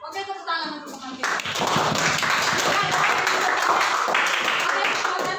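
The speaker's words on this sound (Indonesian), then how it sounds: "Oke, tepuk tangan untuk teman kita." Classroom applause for a student breaks out after a brief spoken line, a dense, steady patter of many hands clapping that holds loud and close until the end.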